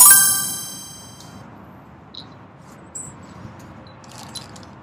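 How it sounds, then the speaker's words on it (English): Small metal bells, including a Bellaware bell, clink while handled while sorting storage-unit finds; a bright ring opens, then a few faint, scattered dings and taps follow over low background rumble. "Another bell. Got two bells."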